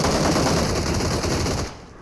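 Rapid automatic gunfire from PUBG Mobile rattles in loud, continuous bursts that fill the moment, then cut off and fade near the end.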